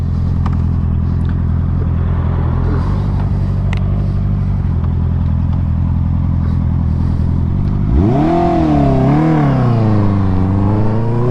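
A Honda CB650R motorcycle engine idles loudly and steadily up close, then revs sharply in a couple of rising and falling surges near the end.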